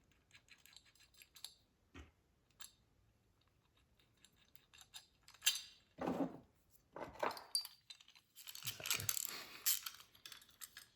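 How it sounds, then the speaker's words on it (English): A terminal block being bolted to the bracket of a battery relocation kit on a Polaris Sportsman 450 ATV: quiet scattered metallic clicks and ratcheting, then louder bursts of tool noise and rattling toward the end. "now we're going to take our terminal block and bolt it to our bracket supplied in the kit."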